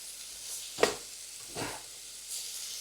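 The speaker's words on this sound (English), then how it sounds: "I'll throw in the rest of our veggies" Green vegetables hitting a hot stir-fry pan, giving a sharp close sizzle followed by two softer hissing swells, with no talking.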